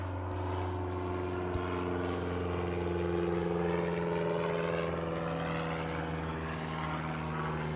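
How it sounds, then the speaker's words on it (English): Airplane flying overhead above a scrapyard, a steady droning engine hum with a low propeller tone that holds evenly throughout, no talk. "It's a plane, not a drone."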